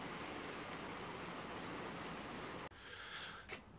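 Heavy rain falls on a carport in a loud, steady hiss, then abruptly drops off to a lighter patter with a few nearby knocks.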